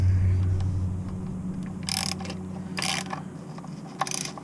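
Ratchet wrench tightening the aluminium oil drain plug on a 2-litre TDI 110 Golf 6 during an oil change, heard as a few short broadband ratcheting bursts over a steady low mechanical hum.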